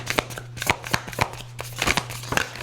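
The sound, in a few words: shuffling a deck of cards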